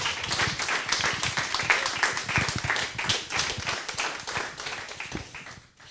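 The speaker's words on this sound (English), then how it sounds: "Round of applause for you because I think you all did a wonderful job." An audience claps steadily after a group project presentation, a dense patter of many hands that holds for several seconds and then fades out near the end.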